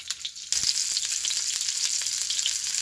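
Sesame-and-pepper-crusted bluefin tuna sears in a hot pan, a loud steady sizzle that jumps up sharply as the fish is laid down, with faint crackles and pops running throughout.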